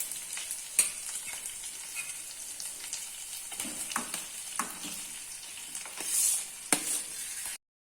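Boiled, mashed potatoes for a samosa filling go into a sizzling pan. Steady frying hiss carries through, with scraping stirs and thuds as the spoon works the mixture, close and moderately loud.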